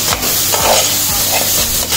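Tomatoes sautéing in a pan for an egg omelette gravy, a steady close sizzle with a spoon scraping and stirring through it in slow, regular strokes, no voices.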